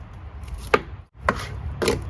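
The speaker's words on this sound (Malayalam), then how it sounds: "അപ്പോൾ ഒരു ഫിഷ് കട്ട് ചെയ്ത് കഴിഞ്ഞു." A knife chops through a salmon on a board with three sharp, distinct strikes spaced about half a second apart, close and crisp, with no voices.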